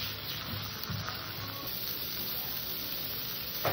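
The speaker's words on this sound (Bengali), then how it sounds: "তার চাইতে একটু হালকা করে ভাজবো উচ্ছেটা।" Bitter gourd fries lightly in a pan, making a steady, even sizzle close by for a few seconds with no voices.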